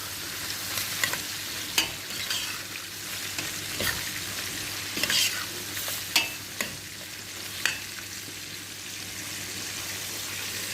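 Rice with fish and coriander leaves stirred in a hot pan: a steady close sizzle runs throughout, broken by sharp scrapes and clicks of the spoon against the pan every second or two.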